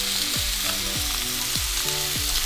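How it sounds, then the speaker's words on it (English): Meat pan grilling with salt and black pepper, a steady loud sizzle and frying hiss in the pan, with a few low thumps from stirring or handling. "Grilled it with salt and black pepper. So this is called pan grilling"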